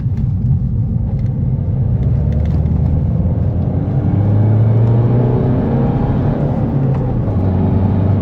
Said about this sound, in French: Ça gueule hein, pour un diesel.